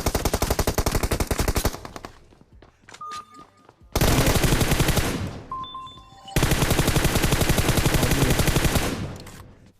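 Automatic gunfire from the Free Fire battle royale game, including a Tommy gun, in long loud sustained bursts with short pauses between, near and dominant with no talk.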